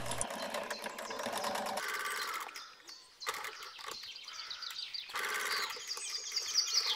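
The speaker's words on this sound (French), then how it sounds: "on coud à 1 cm du bord tout le tour" A sewing machine stitches a fabric cup cover a centimetre from the edge, running in bursts of steady rapid mechanical whirring with brief pauses between seams, close and clear.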